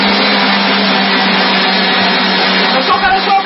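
Electric hand mixer whipping chocolate cake batter, a steady loud motor whir running continuously up close with faint bumps against the bowl near the end.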